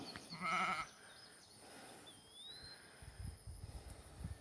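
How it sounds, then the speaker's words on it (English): A single loud sheep bleat sounds early on, followed by quieter outdoor ambience with a faint bird chirp and some rustling. "there's some of our sheep"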